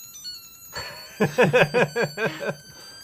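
A shrill piezo buzzer tone pulses in a quick series of about eight bursts near a router, loud and close, over a faint background hum.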